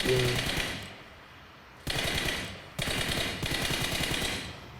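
Automatic weapon fire in the mobile game PUBG Mobile: rapid, loud bursts of gunshots in several sustained volleys, each cut off abruptly before the next begins.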